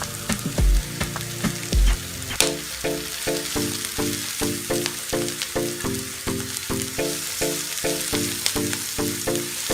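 Steady sizzling of chopped garlic frying in a hot pan, with rhythmic stirring scrapes and a couple of low thuds at the start.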